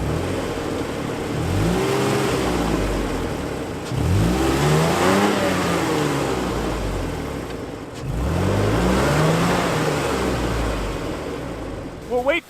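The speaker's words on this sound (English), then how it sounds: "We can actually hear Trevor coming." An off-road vehicle engine revs repeatedly in rising surges while wheeling through snow, loud and close, with tires or motor straining; a voice speaks briefly over the rumble.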